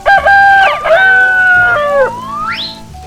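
A cartoon rooster crows loudly in a children's farm-animal mud-bath cartoon. The crow rises and bends in a strained, sing-song way and ends in a rising squeak, with no talking.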